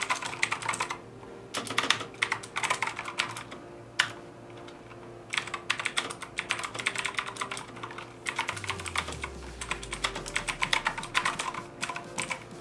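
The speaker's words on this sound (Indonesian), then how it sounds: "cuma dengan adanya switch warna biru, karakternya yang agak berisik itu juga nggak hilang, seperti contoh berikut ini" Fast, sustained typing on a Gamdias gaming keyboard with noisy blue mechanical switches, a dense clicky clatter of keystrokes with brief pauses and a low hum underneath, no speech.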